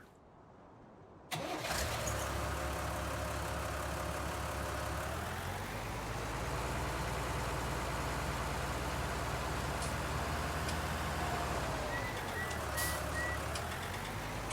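Truck engine in Farming Simulator 19 cranking to life after a moment of quiet, then settling into a steady running rumble with small rev swells and a faint high beeping near the end, no voices.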